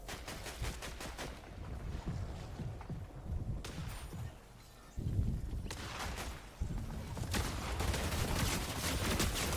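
Rapid SMG gunfire and bursts from a competitive solo battle-royale video game finals match, loud and sustained over dense game ambience, with shooting continuing almost throughout and a brief lull midway.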